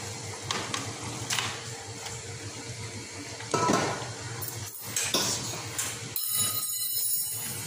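Metal utensils clink and scrape in a pan as boiled spaghetti is tossed into chicken spaghetti sauce, with several bright knocks spread through the stretch and a steady low kitchen hum underneath.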